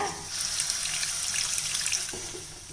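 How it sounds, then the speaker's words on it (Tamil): Water is poured from a vessel into a spiced meat gravy being cooked, giving a steady close splashing stream that fades near the end. "இப்போ இதில் கொஞ்சம் தண்ணி விட்டுக்கலாங்க"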